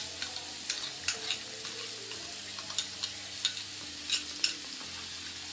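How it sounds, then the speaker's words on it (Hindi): Three chopped onions hit hot oil in a pan, sizzling steadily while a spoon stirs and scrapes with repeated clicking strokes, close and clear with no talk. "अभी गाइस तेल गरम हो गया, अभी हम लोग ऑनियन ऐड करेंगे गाइस।"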